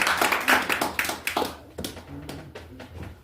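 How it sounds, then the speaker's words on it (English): A comedy club audience claps in a brief burst that quickly thins to a few scattered claps and taps before fading. "You can applaud that."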